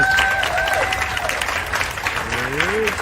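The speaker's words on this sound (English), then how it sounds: "Please give him a round of applause." An audience gives a brief round of applause for a guest speaker, dense clapping throughout with voices mixed in beneath it.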